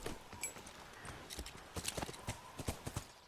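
Horse hooves clip-clop in The Last of Us, a steady run of hoof strikes on hard ground at moderate distance, with faint ambient game sound beneath and no talk.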